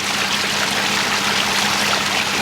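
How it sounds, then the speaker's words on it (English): Water pours and gushes steadily out of a flooded Toyota Tacoma pickup after it sank in water, a continuous close, loud rushing splash with no voices. "Look, it keeps on pouring out."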